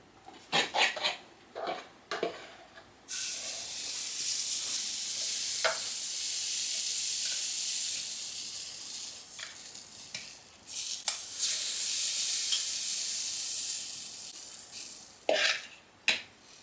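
Chocolate chaffle batter sizzles steadily in a waffle iron, a loud continuous hiss that swells and fades, framed by a few sharp clicks and clatters of utensils at the start and end.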